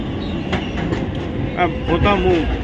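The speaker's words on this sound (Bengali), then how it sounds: "এই আমাদের ট্রেন চলে এলো" New York subway 7 train arriving at a station, a steady rumble of wheels and cars with brief metallic squeals, heard close on the platform.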